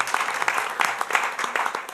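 A crowd claps at a legislative meeting, giving a dense, steady round of applause at moderate distance that fills the whole moment, with some voices mixed in.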